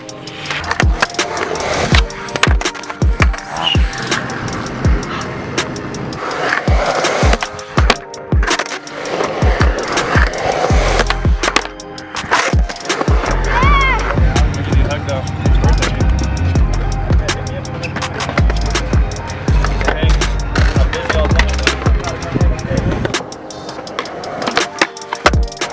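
Skateboard on Ghetto Child wheels rolling and grinding through transition, with repeated sharp clacks and thwacks of the deck and trucks against rolling wheel roar, occasional faint voices in the background.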